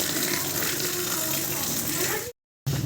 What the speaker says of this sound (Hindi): जितना पानी ज़्यादा ना ड्रम में, वो निकल रहा है अभी